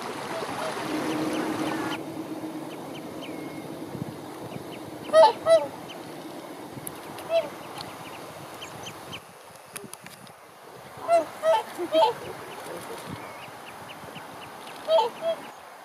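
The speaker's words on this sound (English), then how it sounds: "a couple of whooper swans with their broods" Whooper swans with their broods along an Icelandic roadside, giving loud, bugling honks in short pairs and clusters that come and go over steady background rumble and distant murmur.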